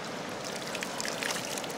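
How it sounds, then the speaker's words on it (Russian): Clear mountain river in Charyn Canyon rushing over stones, with a steady broadband wash of flowing water heard close and alone. "Ну, горная река, что говорить."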